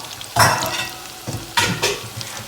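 Plantain slices fry in hot oil over medium heat, with loud close bursts of sizzling that swell and fade in a few waves, no talking.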